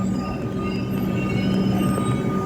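A sky rail train rumbles past a station by the sea, a dense, steady roar of wheels and rails with faint metallic squeals, loud and continuous throughout.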